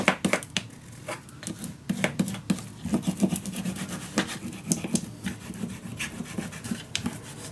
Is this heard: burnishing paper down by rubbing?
yes